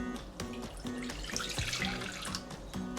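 Lukewarm water is poured into a kneading bowl for simit pizza dough, a close, bubbling splash with rhythmic gurgling pulses over about three seconds.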